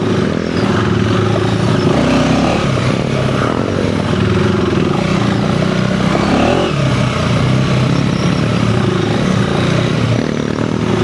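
A Honda CRF300L motorcycle, stage 1 modified, rides off-road with a steady, loud engine drone and a clattering, rough-terrain texture that continues throughout with no pauses.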